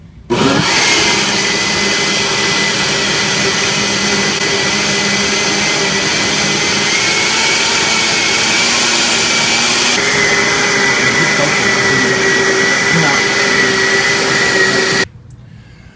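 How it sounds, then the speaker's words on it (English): A kitchen blender whirs loud and steady as it purees cilantro into a fire-roasted vegetable salsa, running continuously for about fourteen seconds before cutting off abruptly, with no talking over it. "we're going to put our lid on, and we're going to blend in our cilantro"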